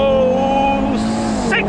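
An Audi TT RS Roadster launches hard from a standstill, its engine loud and close, rising in pitch as it accelerates and then briefly shifting in tone.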